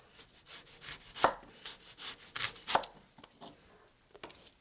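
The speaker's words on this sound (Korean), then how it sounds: "토마토도 있잖아요. 아주 얇게 슬라이스로 자를 겁니다." Knife thinly slicing tomato on a board: a few crisp, separate slicing taps with short pauses between, close by and fairly quiet, no talking.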